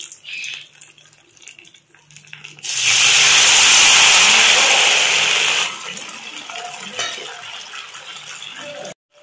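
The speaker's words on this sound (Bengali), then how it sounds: "দিয়ে নেবো আমি প্রায় 1 কাপের মতো জল।" About a cup of water is poured into semolina batter for suji dhokla, a loud steady rushing splash lasting about three seconds, framed by quieter kitchen handling and stirring noises before and after.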